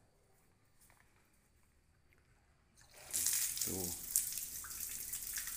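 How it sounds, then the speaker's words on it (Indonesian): Tap water gushes steadily at the women's ablution area of Masjid Al-Ikhlas, Talang Jawa, starting abruptly midway after a quiet stretch and continuing loud and close, with a brief spoken word at the start. "itu airnya ya"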